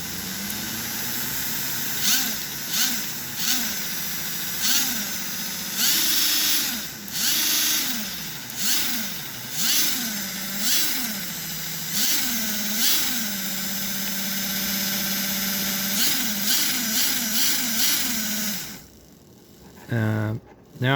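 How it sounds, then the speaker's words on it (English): An American Flyer Casey Jones toy train engine, freshly tuned up, runs with a steady electric motor whir that repeatedly rises and falls in pitch as the speed changes, then cuts off near the end. "This is a Casey Jones engine that I just gave it a little tune-up"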